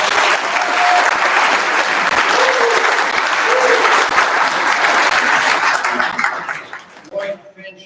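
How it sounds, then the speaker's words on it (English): A club meeting audience gives a loud, sustained round of applause lasting several seconds, with a few chuckles mixed in, before it tapers off and a speaker resumes. "Could you give him a round of applause?"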